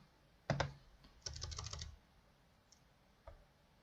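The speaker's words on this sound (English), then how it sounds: "Let's type Alt Shift and F to reorder this." Alt Shift F shortcut keystrokes on a computer keyboard: a quick double click, then a rapid burst of several clacking key presses, and one lone tap after a pause, close and crisp.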